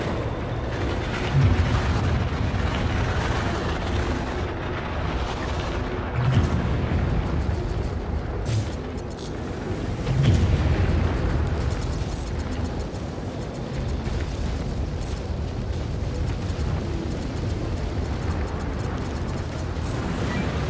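Missile explosions and booms in the space combat game Star Citizen, during an attack on a convoy ship, come as a few dull thumps over a steady engine rumble, with no talking.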